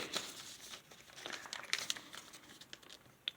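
Paper is creased and pressed while folding an origami fox, a close, soft run of crinkling and rustling with a few crisp snaps, no voices.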